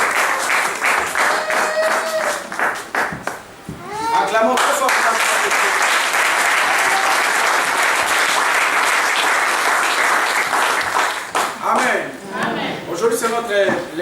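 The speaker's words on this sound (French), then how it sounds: "Acclamons très fort." A church congregation bursts into loud applause at the end of a prayer, dense sustained clapping with shouting voices mixed in, fading briefly before rising again.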